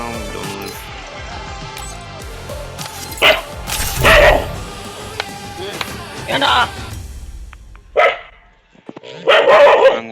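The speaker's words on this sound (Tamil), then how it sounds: "இந்த நாய் வேற குலைச்சு தொலையுது." A dog barks repeatedly in loud, close bursts spread across the stretch, with someone talking in Tamil between and over the barks.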